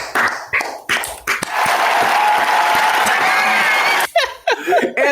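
A studio audience at a comedy game show bursts into dense, loud applause and cheering for a returning champion, a sustained roar of clapping for a few seconds between stretches of a host talking.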